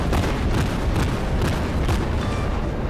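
Heavy naval guns of a Cleveland-class cruiser fire during a ranked World of Warships battle: several deep booms land roughly half a second apart over a dense, continuous rumble, loud and close, with no voices.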